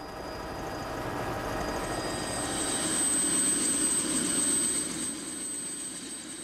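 A light aircraft lands on a palm-fringed island in Botswana, its engine droning steadily from inside the cabin with a rising and easing roar and high whining tones.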